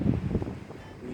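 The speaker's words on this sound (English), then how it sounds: "it's pretty windy here today" Strong gusty winter wind blows outdoors in snow at around 35 mph gusts, a steady low roaring buffet against the microphone, close and continuous, with no speech.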